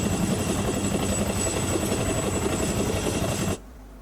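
An old aircraft flies in the Roblox video game, its loud, steady engine whir droning continuously and then cutting off abruptly near the end.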